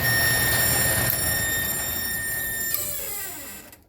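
A garage bowling lane pinsetter machine runs with a loud steady mechanical whir and a high electrical whine, then winds down and fades near the end, close by and with no talk.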